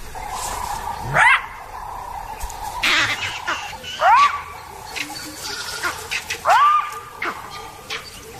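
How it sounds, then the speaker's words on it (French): Jackals bark in the wild in leopard territory, with several sharp rising yelps and calls spaced a few seconds apart over a steady outdoor background. "Aux aboiements des chacals font écho les cris des singes verts qui se font entendre dans le lointain."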